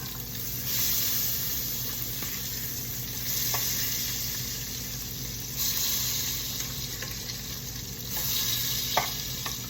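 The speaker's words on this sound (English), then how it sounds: "we're going to check back over on our bacon, give it a little flip" Bacon sizzles and fries steadily in a pan, with a few soft clinks and scrapes as the strips are flipped, a continuous crackling hiss at moderate level with no talking.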